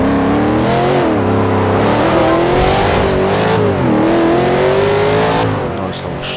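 A car in the game Forza Horizon 2 revs loud and close under heavy acceleration, the engine note climbing and falling as gears change, while someone talks over it.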